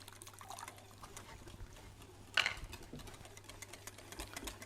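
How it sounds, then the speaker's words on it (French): White vinegar is poured into a mustard sauce for Christmas salmon gravlax, a faint, brief liquid splash against a quiet kitchen hum, with a few soft clinks around it. "Donc là je rajoute mon vinaigre blanc."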